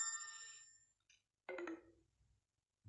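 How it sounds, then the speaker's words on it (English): Phones beeping and ringing indoors: a bright electronic tone at the start, a brief chirp, then a second sharper ring, each fading quickly between quiet gaps. "Why are phones beeping?"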